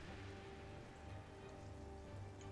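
Steady rain pattering on surfaces in the video game For the King, a soft, even wash of drops with no pauses, moderately quiet and alone.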